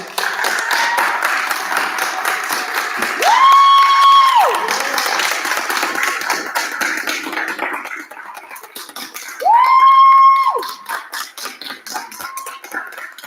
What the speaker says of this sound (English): can we give them one more loud round of applause?